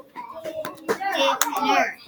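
A first-grade child claps out the syllables of a word during a classroom phonics lesson, a couple of sharp, close hand claps set among a teacher's and children's talk.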